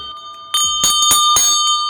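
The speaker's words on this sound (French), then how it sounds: "la cloche" A bell rings in short repeated strokes, loud and close, in a French game-show setting tied to Fort Boyard, with bright metallic tones sustained between hits.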